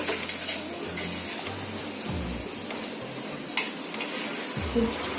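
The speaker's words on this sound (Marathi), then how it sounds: "ही अंडी टाकून घ्यायची मस्त खालीवर करून घ्यायचं" Eggs stirred and turned in a hot pan for egg bhurji, a soft sizzle under repeated scraping and clinking strokes, close by with no speech.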